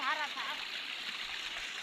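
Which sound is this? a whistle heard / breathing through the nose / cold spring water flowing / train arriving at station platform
cold spring water flowing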